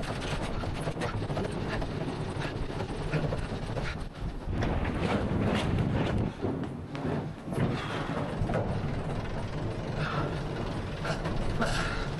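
A sail furler on a Vendée Globe 2024 racing yacht ratchets steadily while a new sail is unfurled, its continuous mechanical clicking blending with a loud, constant wash of wind and sea noise.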